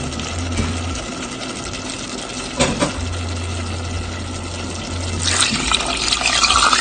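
Broth pours into a pot of clam soup, a continuous splashing flow close by, with a brief clink partway through and the pour growing brighter and louder toward the end.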